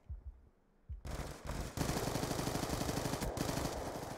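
Gunfire in Black Ops 2 league play: a few scattered thumps lead into rapid automatic bursts, then a sustained, loud, close rattle of continuous shots.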